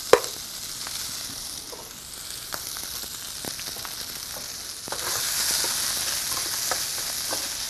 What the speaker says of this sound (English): now I'm gonna take my pasta, just a little bit of it, saute it in there with it